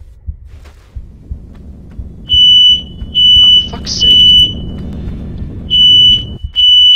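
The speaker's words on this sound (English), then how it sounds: "Smoke alarm's going off." A piercing, high-pitched smoke alarm beeps in repeated bursts, roughly five sharp tones, over a low background rumble, with a brief muttered exclamation.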